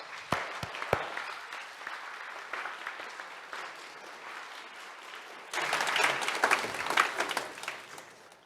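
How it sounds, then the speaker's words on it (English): Church audience applauding young people who led songs and gave speeches, a steady round of clapping that swells louder and denser partway through, with a few sharp claps at the start. "Let's give all these young folks a round of applause."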